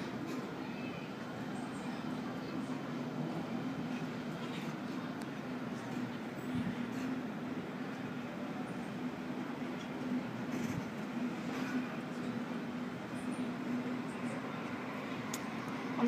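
A Sydney suburban train rolls steadily past nearby near Hornsby, a continuous low rumble with faint rail clatter and occasional squeals, no voices.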